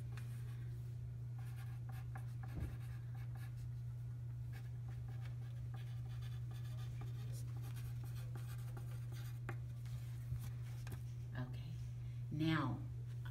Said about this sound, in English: So go ahead and write, use your pencil, write nice and dark